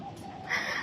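A crow-like bird caws briefly on a quiet, empty street during a typhoon, a short faint call over soft ambient noise.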